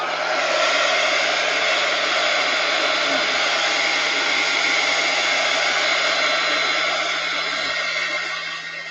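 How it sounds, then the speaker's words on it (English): A hair dryer blows steadily and loudly to dry wet paint on a craft wall hanging, holding one constant whooshing drone with no break before it tapers slightly at the end. "Let's just dry it again since we wet it."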